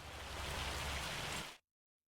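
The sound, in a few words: rain in the video game Farming Simulator 25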